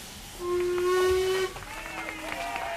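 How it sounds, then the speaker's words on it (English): A steam locomotive at a station platform gives one long, loud, steady whistle, held for about a second before it drops away into softer background sound. "The engine gives a long whistle."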